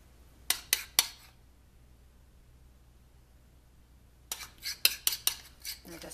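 Utensil clinking and scraping on a bowl while vanilla glaze is spread onto cooled scones, three quick taps, a quiet pause, then a denser run of close scrapes and clicks.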